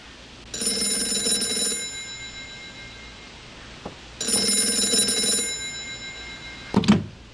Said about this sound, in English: How did you know the phone would ring just now?